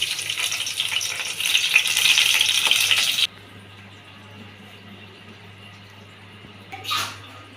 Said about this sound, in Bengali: এর মধ্যে আমি পেঁয়াজ আর কাঁচামরিচ গুলো ভেজে নেব।